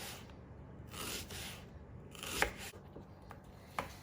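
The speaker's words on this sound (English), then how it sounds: "I'm going to slice the onions this way first" A knife slices a red onion on a board, making soft, crisp cuts and scraping strokes with a couple of sharper knocks, close and quiet.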